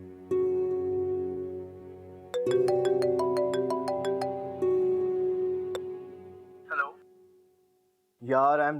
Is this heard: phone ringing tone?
yes